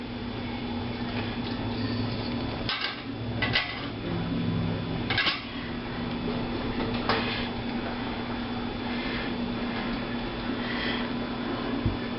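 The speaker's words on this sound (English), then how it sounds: "Out of the canner they come." Glass canning jars filled with kiwi fruit clink and knock as they are lifted one by one from a hot water bath canner, with several sharp taps over a steady background hum.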